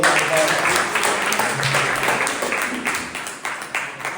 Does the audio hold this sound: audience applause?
yes